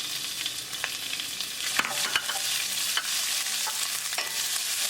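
Garlic and ginger sizzle with cumin in a tablespoon of olive oil, a steady bright crackle with occasional stirring scrapes and clicks, close and continuous with no talking.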